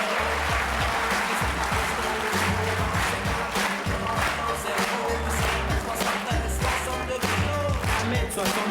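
A TV game show studio audience applauds loudly and steadily throughout, a dense wash of clapping under a pulsing low musical beat.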